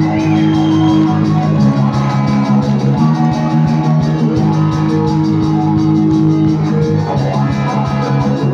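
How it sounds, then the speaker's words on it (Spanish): A crowd cheers and whoops for a band member during a live concert at the 2019 Feria de la Tortilla. The shouts rise over loud, continuous band music that plays throughout. "Un aplauso para él, por favor."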